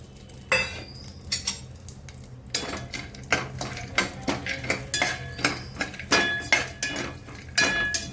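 Dry fruits roasting in ghee in a pan as Marathi sweet kheer is made, heard as repeated close stirring scrapes and utensil clinks against the metal with a light sizzle underneath, no voices.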